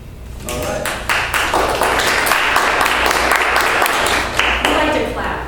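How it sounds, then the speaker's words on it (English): A small meeting audience claps at the end of the meeting, with crisp individual hand claps audible within a lively, fairly close burst of applause that rises quickly and carries on to the end. "We like to clap at the end of the meeting."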